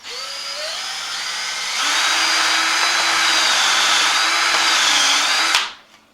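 A power drill countersinks a hole in wood, whining steadily and loud, rising in pitch partway through as it bites, then cutting off sharply near the end, with no talk.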